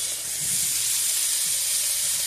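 Johnsonville chorizo sausage hits a hot pan with onions and garlic for caldo verde soup, making a loud, steady hiss that does not let up, with faint low thumps underneath.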